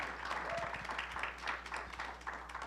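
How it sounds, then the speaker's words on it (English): Audience applause at a Baltimore morning session, a dense patter of clapping from a crowd holding at an even level throughout, close by with no clear speech. "So give them a round of applause."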